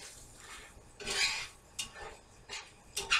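Flour being stirred into sausage in a pan for biscuit gravy, heard as a few scraping clinks of a utensil against the pan, spaced irregularly and fairly close, with no talk.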